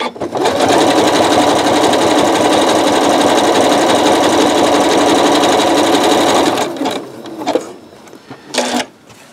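A sewing machine set to a wide 7.0 zigzag stitches a coiled rope bowl, running loud and steady with a dense whir for about seven seconds, then stopping, followed by a few short bursts of stitching.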